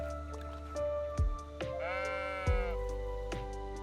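Sheep bleat in a video game, several short wavering cries close together over a steady background hum, with soft squelchy taps between them.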